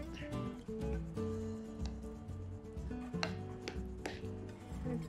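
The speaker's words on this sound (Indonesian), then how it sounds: "Lalu kita aduk-aduk, kita campurkan jadi satu ya, Moms, semua isiannya." Martabak filling of egg, corned beef and ground pepper being stirred together in a bowl, with close, irregular scraping and clinking strokes over a steady background hum.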